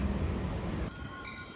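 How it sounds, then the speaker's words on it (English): A Caltrain diesel push-pull train pulls into a San Francisco platform, with a steady low rumble of wheels and engine followed by faint metallic clinks and a high squeal near the end. "My train runs into the platform with a driving trailer at the San Francisco end"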